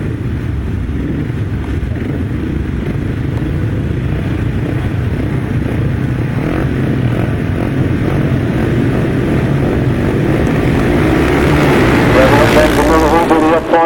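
Solo motorcycles launching at the start of a grasstrack race, their engines a loud, continuous roar that rises in pitch toward the end, with a voice talking over them.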